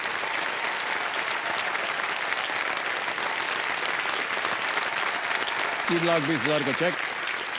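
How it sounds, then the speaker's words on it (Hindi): Sustained studio audience applause on a quiz show, dense and even across the whole stretch, with someone speaking over it near the end. "तालियां बजती रहें"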